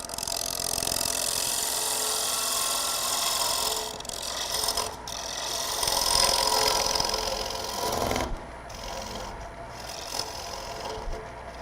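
A turning tool scrapes inside a spinning bowl on a wood lathe at a live turning demonstration, a continuous loud hiss and rasp with brief dips where the cut eases, no voices.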